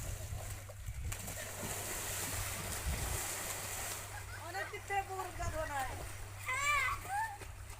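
Children splash in a village pond, with water sloshing and churning at mid distance under chatter and a voice.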